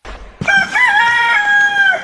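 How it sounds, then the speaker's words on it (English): A single loud, close rooster crow rings out, long and drawn out, after a brief quiet moment. "The sound of chickens in the coop."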